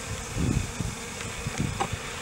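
Honey bees buzz in a package hive, a close, steady drone with small swells over a couple of seconds.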